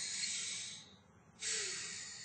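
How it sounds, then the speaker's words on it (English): Close breathing: a long hissing inhale, a short pause, then a steady hissing exhale. "could you take a deep breath in and out for me?"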